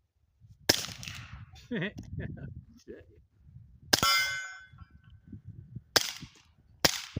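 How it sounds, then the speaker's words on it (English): A Taurus G3 Tactical pistol fitted with an Octane 9 suppressor fires four sharp, clanging shots at an outdoor range, spaced unevenly, each a bright crack with a short ringing tail, and quiet talk sits between them. "we got the Taurus G3 Tactical set up with the Soundsco Octane 9. Let's see how it performs suppressed."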